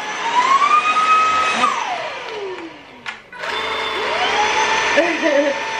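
A small handheld vacuum cleaner with a built-in light whirs steadily and close, its motor pitch sliding down and cutting out briefly before starting up again, while someone talks over it.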